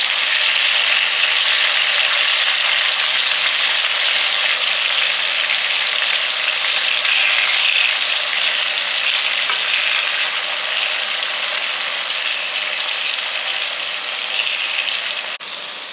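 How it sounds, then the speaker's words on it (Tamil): Tomatoes being stir-fried in a pan give a steady, loud sizzle that runs on without a break, close by and with no voices. "தக்காளி வந்து பரட்டி விடுங்க."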